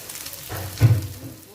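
Maakouda, small potato patties, frying together in a pan of hot oil, a soft steady sizzle and crackle with a brief louder bubbling surge, close by and without voices.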